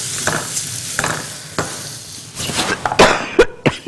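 Red and green capsicum with onion tossed into a hot pan for chicken fajita wraps, giving a steady sizzle broken by several sharp stirring clatters and scrapes, close and fairly loud with no talking.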